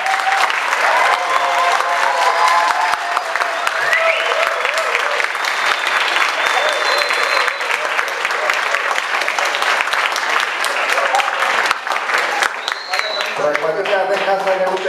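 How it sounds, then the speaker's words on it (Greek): Sustained applause from an audience at a school celebration in a gymnasium, dense clapping filling the whole stretch at steady loudness, with voices and crowd murmur mixed in. "Θα χειροκροτήσουμε πρώτα τα παιδιά μας, όλοι μαζί."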